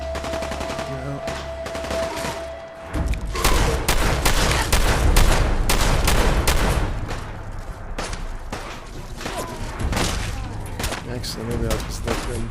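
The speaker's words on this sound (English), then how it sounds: "Here's some gunfire." Bursts of rapid automatic gunfire in Fallout 4 VR crackle loudly, sustained and overlapping, with scattered single shots and occasional speech in the background.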